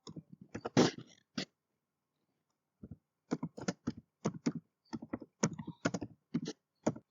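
Someone types a search on a computer keyboard: quick bursts of close, crisp key clicks in uneven clusters, separated by short pauses.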